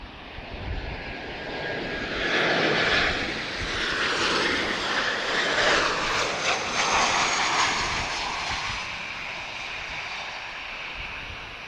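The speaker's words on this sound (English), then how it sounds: "KLM, this is 1677 arriving from Amsterdam, 737-800." KLM Boeing 737-800 arriving from Amsterdam at Lisbon Airport, its jet engine roar building into a loud, steady broadband rumble that holds strongly through the middle and eases slightly toward the end, with no voices.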